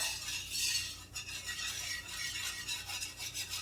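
Flour being stirred in brown butter in a pan for gravy, a steady close scraping and rasping of a utensil against the pan that goes on continuously without any talk.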